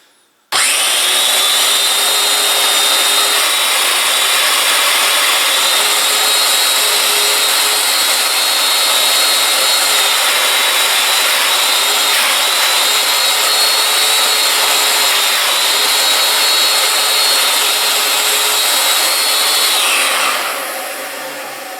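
A Domino joiner bores into a wooden workpiece held down by thumb on a setup jig, its motor whining loud and steady for about twenty seconds at close range before spinning down.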